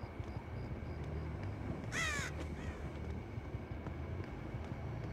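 In Dead by Daylight a single crow gives a short, clear caw partway through, standing out over a steady low ambient rumble in the game's outdoor map.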